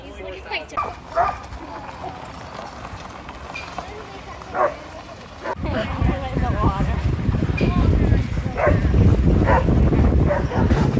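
Sled dogs barking and yipping with some whimpering in Alaska, scattered over chatter from people nearby; the noise grows busier and louder in the second half.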